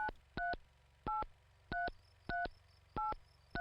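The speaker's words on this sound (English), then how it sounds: "We're going to go ahead and make this final phone call" Telephone keypad tones dialing a number in the video game Mon Bazou, six evenly spaced short beeps with brief gaps, clear and alone over a faint background hum.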